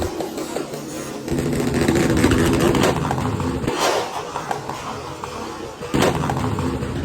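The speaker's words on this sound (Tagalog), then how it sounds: "rinig nyo naman kung saan pumutok yung piccolo na yun" A piccolo firecracker thrown at a New Year car meet goes off among rumbling car engines, with a sharp bang near the middle and another burst toward the end over steady outdoor noise.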